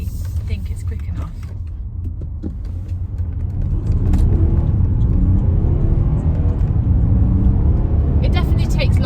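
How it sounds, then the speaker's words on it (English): A Volkswagen Touareg V6 diesel pulls away under acceleration, its low engine rumble building and rising in pitch as it grows louder and steadier through the second half. "It definitely takes longer, and it's not got that instant throttle response because it's a diesel, but it's so much torquier."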